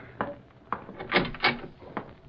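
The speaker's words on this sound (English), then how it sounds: "Open the door." Door being opened as a radio drama sound effect, with a series of wooden clunks and rattles of latch and handle, several sharp knocks close by and fairly loud, with no talking.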